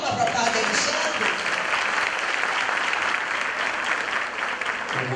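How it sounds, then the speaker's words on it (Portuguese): Dense, steady applause from a large audience, sustained close and loud for the whole stretch, welcoming a priest at a Catholic gathering of a mothers' prayer movement. "Uma salva de palmas para o Padre Alexandre"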